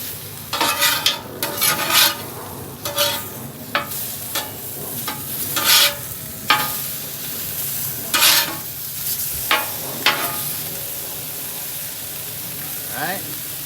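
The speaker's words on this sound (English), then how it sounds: "we're gonna go ahead and flip our bagels over now that the inner portion has got some nice toast to them. We're also gonna flip over our meat." Tri-tip meat and bagels being flipped on a Blackstone griddle, a steady sizzle broken by repeated sharp metal spatula scrapes and taps, close and uneven in rhythm.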